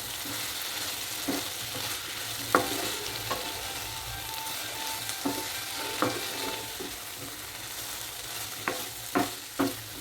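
A cauliflower vegetable curry with coriander leaves is stirred in a pan, a soft steady sizzle broken by scattered scraping and clinking spatula strokes against the metal, close but fairly quiet.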